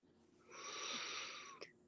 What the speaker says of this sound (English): One more inhale and exhale.